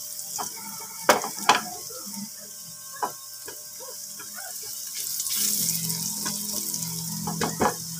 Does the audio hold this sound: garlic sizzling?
yes